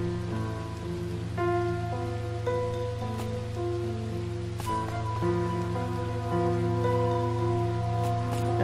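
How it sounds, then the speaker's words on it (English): Steady rain patters across a surface in the video game Sword Art Online: Hollow Realization, a continuous wash of drops with calm tonal game music playing over it and no talking. "Oh yes, I remember the rain now."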